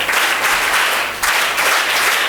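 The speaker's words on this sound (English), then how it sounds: "Clap for the teacher once again." An audience of students gives the teacher a round of applause, a dense, steady burst of many hands clapping that stays loud and even throughout, with a slight surge midway.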